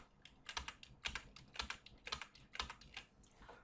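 Computer keyboard typing in quick irregular bursts of keystrokes during copy and paste, close and moderately quiet with no talking.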